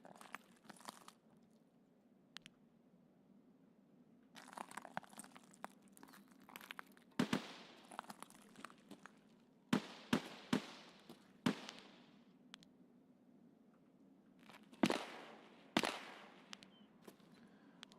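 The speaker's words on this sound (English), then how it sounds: "Shotgun in the distance?" Distant shotgun fire in Escape from Tarkov rings out as scattered sharp cracks, several spaced shots over a low steady hum, some louder and closer-sounding than others.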